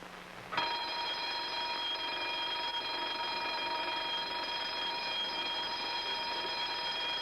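A fire station alarm bell rings out suddenly after a brief quiet moment, then keeps going as a steady, loud, continuous metallic ringing that holds to the end.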